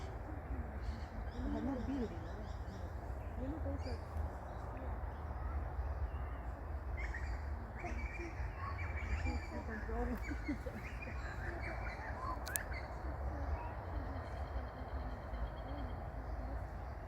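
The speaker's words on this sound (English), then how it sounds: "You can hear the morning traffic and the morning birds." Morning birds call faintly in Brisbane, with scattered chirps and hooting notes layered over a constant low rumble of morning traffic, and some voices in the background.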